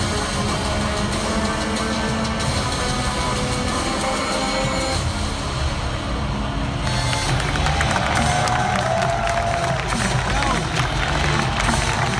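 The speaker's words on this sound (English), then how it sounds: "It is a fabulous response for you again from this Oakland crowd." A large tournament crowd at a CS:GO IEM event in Oakland cheers and applauds steadily for a team, a dense, loud roar that swells near the end, with voices speaking over it.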